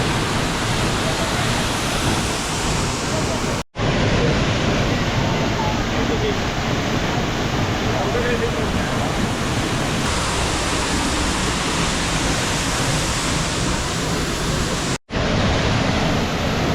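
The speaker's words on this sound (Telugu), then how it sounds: "వాటర్ ఫాల్స్ మటుకు అదిరిపోయింది." Harvalem waterfall in Goa pours with a loud, steady, broadband roar that fills the whole stretch, broken only by two brief cuts to near silence.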